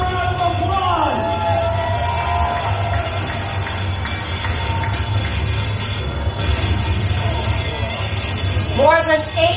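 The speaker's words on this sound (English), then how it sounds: "Give Brady Stewart a round of applause!" Crowd at a weightlifting event cheering and shouting, a sustained roar of yells and whoops with bursts of excitement, loud and close with voices rising over the din.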